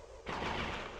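Armored Core gunfire erupts abruptly as a sustained, dense burst of rapid shots, loud and continuous through the rest of the moment with no talk over it.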